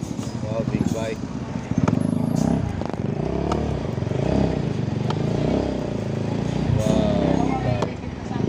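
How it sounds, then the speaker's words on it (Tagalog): A big motorcycle engine runs nearby with a throaty, uneven rumble and some clattering, while people chatter and talk over it. "Wow, big bike."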